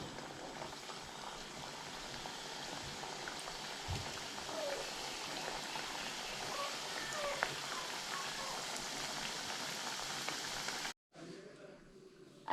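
Badusha sweets deep-fry in hot oil over a medium flame, a steady dense sizzling crackle that runs for most of the stretch before cutting off abruptly, with no talking over it.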